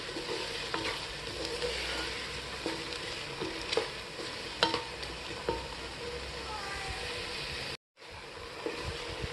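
Soft steady sizzling of onions frying in a pan until lightly browned, with occasional scraping stirs and a brief dropout near the end.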